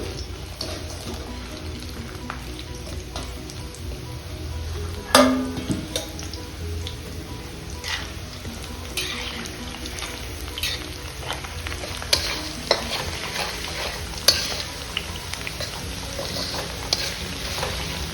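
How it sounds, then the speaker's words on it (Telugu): Drumsticks fry in hot oil for pickle, a continuous soft sizzle broken by occasional stirring clatters and scrapes against the pan. "మనం ఇందులో మునక్కాడలు వేసుకుందాం ఆయిల్లో."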